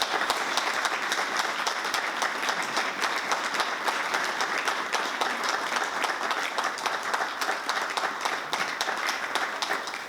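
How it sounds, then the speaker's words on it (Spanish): Sustained, dense applause from an audience honoring the late Spanish poet and Cervantes Prize winner Francisco Brines at a poetry magazine launch, steady and loud for the full ten seconds with no speech over it. "Os pido un aplauso en su memoria."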